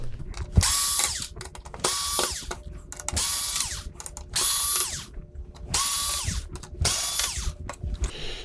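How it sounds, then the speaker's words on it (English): A power screwdriver backs screws out of the power supply board of a Toshiba 55UX600U TV: six rhythmic whirring bursts with brief pauses between them, close and clear. "Now we'll just get the screws."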